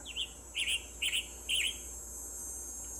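Western tanager calls from the Nancy Drew game Ghost Dogs of Moon Lake come as four short, clipped, burry chirps at a steady pace, clear and close against a quiet steady hiss.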